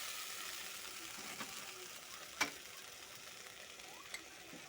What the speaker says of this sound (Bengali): এবার একটু জল দিয়ে মশলাটা একটু কষিয়ে নেব।